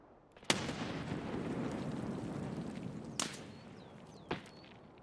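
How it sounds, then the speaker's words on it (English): Grenade explosions in the video game Escape from Tarkov: three sharp blasts, one loud and close with a long rumbling tail, then two more spaced a few seconds apart, no voices. "who in the hell is just throwing random grenades?"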